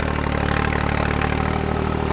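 A New Holland 3630 tractor engine labors steadily while pulling a plough through a paddy field under load, a loud continuous diesel drone with a low, even throb and no pauses.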